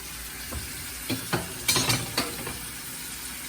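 A thin egg omelette sizzles in a pan over low heat, a soft steady frying hiss broken by a few brief scraping and flipping bursts from the spatula.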